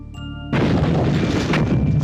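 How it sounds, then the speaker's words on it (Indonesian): A film explosion as a witch's body blows apart: a sudden loud, booming blast after a brief tonal lead-in, sustained with rumbling debris for over a second. "tubuh Nyi Angker meledak dan hancur berkeping-keping"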